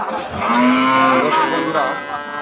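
A cow with a calf at a cattle market lets out a long, loud, drawn-out moo close by, rising and falling over a couple of seconds.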